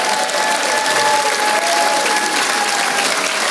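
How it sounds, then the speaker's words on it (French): Thunderous audience applause in a television studio variety show greeting a ventriloquist, a dense, steady wall of clapping that stays loud and close throughout without pause. "un tonnerre d'applaudissements"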